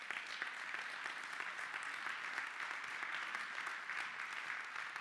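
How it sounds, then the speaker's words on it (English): A church congregation at a Christmas worship service gives a round of applause, with steady, dense clapping filling the room evenly from start to finish without any speech. "Can you give Jesus a round of applause today?"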